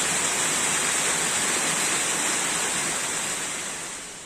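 A smaller waterfall in the Uch-Kosh gorge pours in a dense, steady roar of falling water, loud and close, easing slightly at the end.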